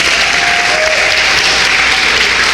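Loud, continuous applause from a large audience at a national reparations convention in Washington, DC, a thick, even roar of clapping with no gaps.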